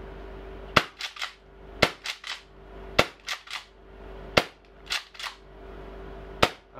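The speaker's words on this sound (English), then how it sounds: "I'm just gonna quickly dry fire this" Tokyo Marui M870 airsoft gas shotgun fitted with a retractable gas stock, dry fired repeatedly: sharp close cracks, each followed by quick mechanical clacks of the pump action, about half a dozen shots in irregular rhythm.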